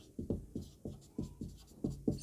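Writing out the solution during a maths lesson produces a steady run of short scratching strokes, about eight quick taps in two seconds, close and clear with no talk.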